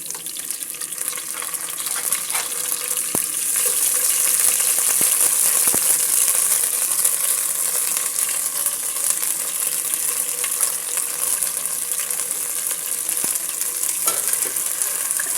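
Ginger garlic paste fries with onions in a pan for a home-cooked chicken curry, giving off a steady, close sizzle with occasional stirring clicks and scrapes throughout and no talking.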